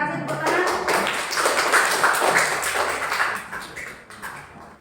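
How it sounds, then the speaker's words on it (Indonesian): In a school classroom, a group gives a short round of scattered hand clapping, with close, sharp claps that swell and then fade out over a few seconds, with some voices mixed in. "Terima kasih, tepuk tangan."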